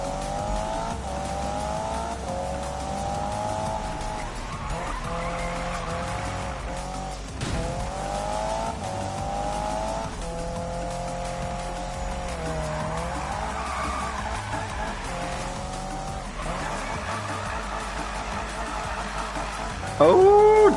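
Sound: car drifting with tire squeals in a video game

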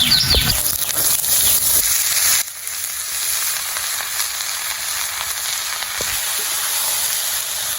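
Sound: bottle gourd added to hot oil, sizzling

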